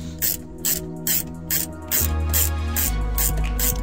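A hand ratchet loosens a bolt on a DAF truck seat belt, clicking in quick bursts of close metallic pawl ticks. A steadier mechanical whir follows, with no speech.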